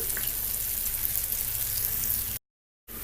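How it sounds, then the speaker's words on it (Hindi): Moong dal mangodi deep-frying in hot oil, a steady close sizzling hiss running continuously before cutting out briefly near the end. "मुगौड़ी हमारी बहुत अच्छी तरीके से पक चुकी है, बहुत ही अच्छा गोल्डन कलर इसका आया है।"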